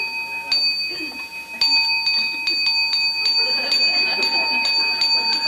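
A temple bell rings in a series of bright, sustained metallic strikes at irregular intervals, each tone lingering over a quiet room with faint background noise.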